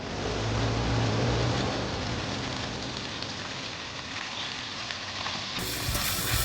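Dried red chillies and poppy seeds sizzle steadily in hot oil in a wok, a dense, even crackle that holds at a constant level throughout with no talking.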